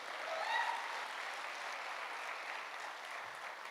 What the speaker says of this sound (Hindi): जोरदार तालियां नागेश्वर जी के लिए एक बार फिर से.